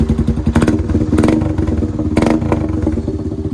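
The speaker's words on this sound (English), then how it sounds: "It sounds in between a motorcycle engine and a two-stroke diesel." A quad ATV engine with a modified exhaust idles roughly with a loud, throaty note, blipping the throttle in a few sharp revs, close up.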